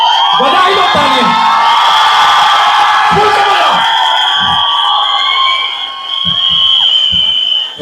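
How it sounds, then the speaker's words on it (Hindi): Fans at a film cast event in Delhi cheering loudly, with whoops, shouts and some clapping from a large crowd, a high sustained roar that dips briefly near the end. "बधाई दो तालियां।"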